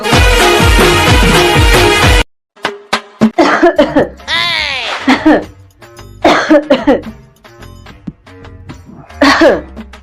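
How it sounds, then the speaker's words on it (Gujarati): A short stretch of loud music cuts off, then a person coughs repeatedly in harsh, close bursts, with some throaty vocal sounds in between. "કેટલા દિવસ થયા ઉધરસ ખાશો?"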